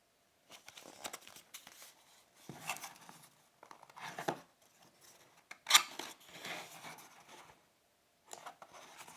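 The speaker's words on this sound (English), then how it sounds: "So let's go ahead and open up the box." Cardboard packaging for an Aedon A1 10,000 mAh solar power bank being cut and torn open, with close, intermittent bursts of scraping, rustling and ripping separated by brief pauses and one sharp snap.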